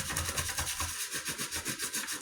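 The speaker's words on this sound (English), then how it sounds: "Now I'm going to take a little bit of sandpaper" Sandpaper is rubbed back and forth over a drilled hole in a Lil' Clucker chicken water cup. Steady, rhythmic scratchy strokes come up close, several per second, with no talk.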